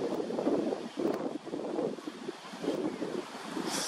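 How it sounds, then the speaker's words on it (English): Strong wind buffets the microphone in rolling gusts, a steady low rumble swelling and easing throughout with no voices. "So it's a very windy day."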